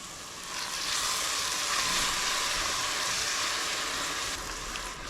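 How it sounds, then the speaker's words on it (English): White wine sizzling loudly as it hits a hot ribollita pot to deglaze it, a steady broadband hiss that holds for several seconds and eases slightly near the end, with no talking. "Just dump in the wine here while I stir."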